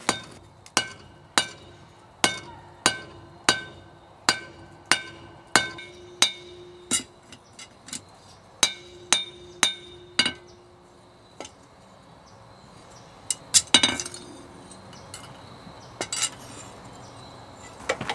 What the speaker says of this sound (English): Cutting it this way will make it easier when I'm hammering out the tang.